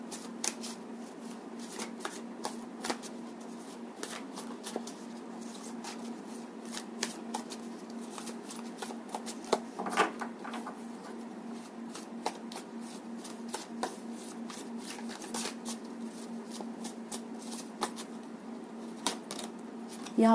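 Tarot cards are shuffled at close range, a steady run of soft rapid riffling flicks and crisp slaps repeating for about twenty seconds, quiet and with no talking.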